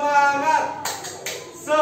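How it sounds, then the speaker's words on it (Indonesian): A teacher demonstrates the rhythmic Indonesian 'tepuk semangat' spirit clap: a few sharp hand claps break up a chanting voice in a short, patterned sequence. "saya contohkan dulu tepuk semangatnya seperti ini"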